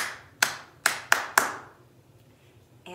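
Four sharp hand claps in an uneven rhythm, close and fairly loud, each with a short decaying ring, setting the beat for a children's song like Bingo, with quiet room tone between.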